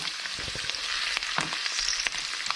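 Salt and pepper squid fries in a crowded pan with a steady, close sizzle broken by sharp crackles and pops, with no one talking.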